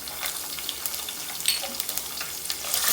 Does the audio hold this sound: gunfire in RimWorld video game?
no